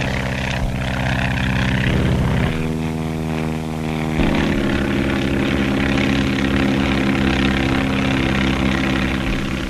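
A propeller skywriting plane drones overhead, a loud sustained engine hum with steady harmonic tones that shift pitch twice as it maneuvers.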